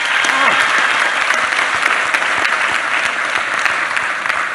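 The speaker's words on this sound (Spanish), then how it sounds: "pido un aplauso para él" Sustained crowd applause at a community gathering in Paracho, Michoacán: dense, even clapping from many hands that holds steady across the whole stretch, loud and close with no pauses.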